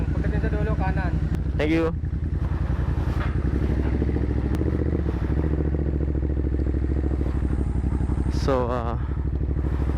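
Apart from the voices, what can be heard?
Ducati Monster 937 motorcycle riding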